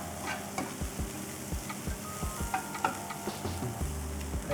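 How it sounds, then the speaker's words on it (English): Olives cooking gently in a frying pan, a steady bed of sizzle and crackle with repeated soft scraping stir strokes and small knocks throughout; no voices. "you can add your olives, which will cook nice and gently, releasing all the flavors"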